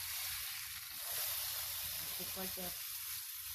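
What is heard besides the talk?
steak sizzling in a pan as it is flipped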